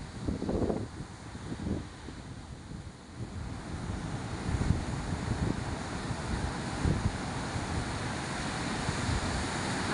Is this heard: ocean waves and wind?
yes